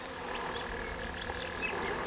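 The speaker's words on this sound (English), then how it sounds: "Listen to the bees, aren't they wonderful?" Bees buzz around flowering acacia (wattle) bushes outdoors, a steady soft hum of many insects close by, continuous without pauses and with no talking.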